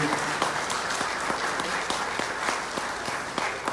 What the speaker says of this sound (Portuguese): gracias por el aplauso que se merecen